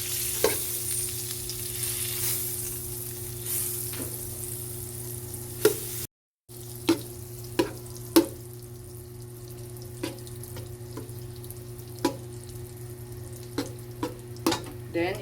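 Butter goes into a hot pan, a soft sizzle running under a steady low hum, punctuated by scattered sharp clicks and taps of a utensil against the cookware.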